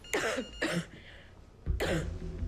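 Three harsh coughs close to the listener, two quick ones followed by a pause and a heavier third, with no talking.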